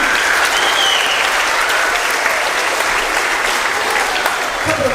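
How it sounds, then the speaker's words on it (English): An audience at a middle school choir concert gives a warm, continuous round of applause, a dense wash of many hands clapping at once that stays loud and even throughout. "Round of applause for them."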